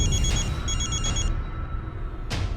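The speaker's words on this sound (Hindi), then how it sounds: "अरे किसी का फोन बज रहा है" A telephone rings in two bursts of repeated electronic trills, then stops; a brief sharp rustle follows near the end. No talking.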